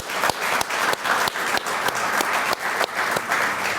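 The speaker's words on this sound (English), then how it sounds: "Yeah, clap it up for them." At the opening of a Boys & Girls Club in Howard County, a crowd applauds state troopers with loud, close clapping pulsing in a fairly even rhythm.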